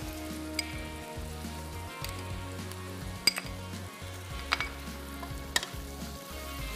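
Garlic, ginger and green chili paste fries in a pan, a continuous sizzle broken by occasional sharp clinks of a metal spoon against the cookware.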